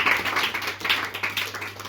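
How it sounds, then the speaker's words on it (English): A stand-up comedy gig audience claps for Jack, a steady patter of many hands at moderate volume with no voices over it. "Round of applause for Jack."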